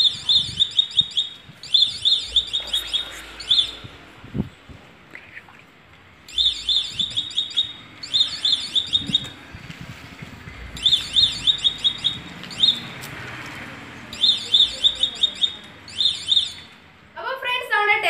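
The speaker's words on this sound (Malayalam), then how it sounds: "ഹോൺ അടിച്ചോ." A homemade electric horn on a bicycle sounds in repeated shrill electronic bursts, several pulsing blasts with short gaps between them, loud and close, with people talking during the pauses.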